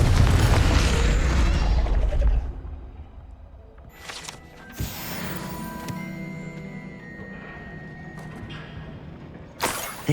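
A Confringo fire-blast spell from Hogwarts Legacy bursts with a loud, deep boom at the start, its rumble fading over a couple of seconds, then scattered quieter thumps and one more sharp impact near the end.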